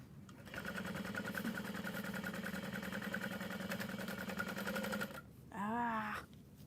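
A sewing machine runs steadily through about five seconds of top stitching on a tote bag, a fast even whir heard up close. It stops, and a short burst of another sound follows.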